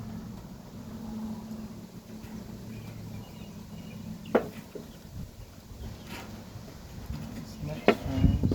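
A honeybee swarm that moved into a farm beehive, a constant low buzzing hum close by, with occasional knocks and clicks of the hive being handled.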